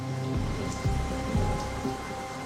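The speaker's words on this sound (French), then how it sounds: "Ce soir-là, il pleut des cordes à l'intérieur de sa maison." Heavy rain pours steadily during a storm, with water coming down inside a house under renovation; a dense, even hiss is broken by several low, dull thuds of falling water.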